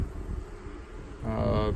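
Honey bees buzz steadily around an open hive frame in late September, the drone growing louder and fuller partway through, with some faint handling noise underneath.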